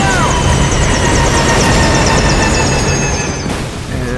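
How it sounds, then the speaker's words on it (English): In the Metal Gear Solid V: Ground Zeroes game, a stricken helicopter goes down with a loud, steady roar of rotor and engine noise and high whining tones, fading slightly near the end. "it looks like our chopper is going down."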